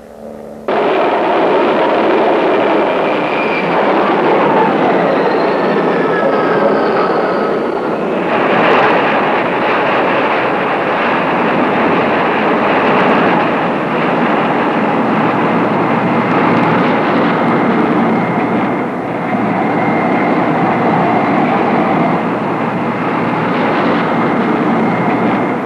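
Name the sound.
AWACS aircraft lifting off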